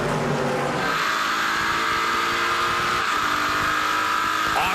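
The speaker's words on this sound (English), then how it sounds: "Listen to these engines wind out down Lakeshore Boulevard, headed towards turn number 3." Race car engines wail at high revs along Lakeshore Boulevard on a street circuit toward turn three, a continuous loud roar with rising pitch as the cars wind out, with no talk.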